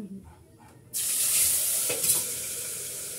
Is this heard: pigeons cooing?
no